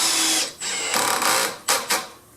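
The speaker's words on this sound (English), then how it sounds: "You want to adjust your clutch on your screw gun here." Cordless screw gun driving screws into a wooden door jamb on a reversible interior jamb kit: bursts of high whirring motor, a couple of longer runs then two short final pulses, close and loud with no talk.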